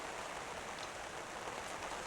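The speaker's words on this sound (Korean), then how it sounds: "갑자기 쏟아지는 소나기." A sudden heavy rain shower pours down in a steady, dense hiss of drops hitting surfaces, uniform and continuous with no voices.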